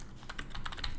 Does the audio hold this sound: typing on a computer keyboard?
yes